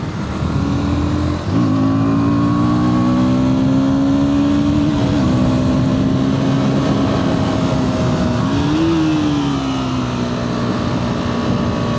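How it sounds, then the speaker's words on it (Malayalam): A KTM 160 Duke motorcycle's engine drones loudly and continuously, its pitch climbing steadily through the revs, dipping briefly at gear changes, then rising again. "ഒരു ഗ്യാപ്പ് കിട്ടുമ്പോൾ ഞാൻ നല്ല ആക്സിലറേറ്റ് ചെയ്ത് കാണിച്ചു തരാം"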